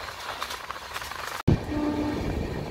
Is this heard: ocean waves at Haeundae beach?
no